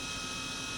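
A Matsuura vertical machining center spindle runs steadily at 6,000 RPM, giving a constant high-pitched whine over broadband hiss, close and unchanging for the moment.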